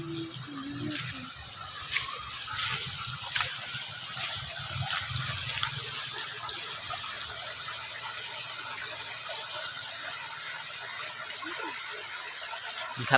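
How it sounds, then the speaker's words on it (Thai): Floodwater rushing and surging strongly during a flood, a steady broadband roar of flowing water with occasional splashes, fairly close and continuous, no talk. "น้ำเชี่ยวน้ำแรงนะครับ"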